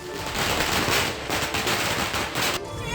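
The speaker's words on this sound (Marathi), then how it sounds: "उद्योगमंत्री उदय सामंत यांच्या कार्यालयाबाहेर फटाके फोडले गेले आणि आनंद साजरा करण्यात आला" A dense, continuous crackle of rapid bursting pops, loud and sustained for a few seconds without pause: a string of firecrackers set off in celebration outside an office.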